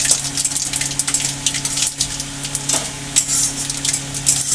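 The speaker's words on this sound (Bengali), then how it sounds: "নিয়েছি একটু পাঁচ ফোড়ন ভালো করে নাড়িয়ে নেব" Bay leaves, dried red chilies and panch phoron crackle and spit in hot oil for a cucumber shukto, a loud, dense sizzle with sharp pops and spatters throughout, close up with no talking.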